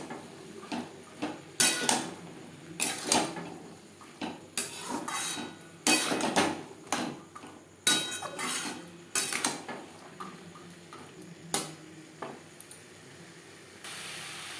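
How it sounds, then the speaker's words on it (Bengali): Boiled peas being mixed with spices in a pan for vegetarian ghugni, repeated metal scrapes and clanks of a spoon against the pan in irregular bursts with brief pauses, close and fairly loud with no talking. "মশলার সাথে মটর বেশ ভালো করে মিক্স করে দেব"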